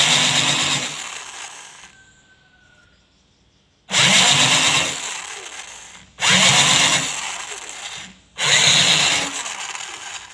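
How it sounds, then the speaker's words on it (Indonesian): Power drill boring through inner tube rubber, with three loud, close whirring runs of a few seconds each, separated by short pauses, and a quiet stretch before them. "Kita akan uji coba mata bor ini untuk melubangi sebuah karet ban dalam."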